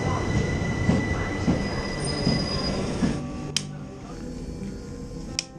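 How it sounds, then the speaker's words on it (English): Southern rail service train in motion near Swanwick, approaching Southampton, with a loud continuous rumble of wheels on track, rhythmic clunks over rail joints and thin high squeals, no talking. "This train is the Southern service to Southampton Central."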